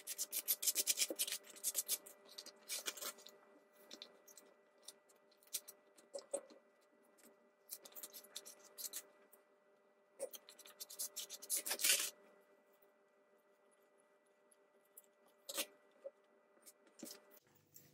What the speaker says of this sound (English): I usually just use a card to smooth it out